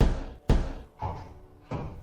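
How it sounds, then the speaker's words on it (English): Three heavy knocks on a door as a radio drama sound effect, evenly spaced about every half second to second, close and loud, each a sharp thud with a short decaying tail, with no talk over them. "You were knocking on the door."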